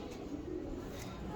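Faint, low cooing from breeder pigeons kept by a fancier, soft and murmuring against a quiet background hum.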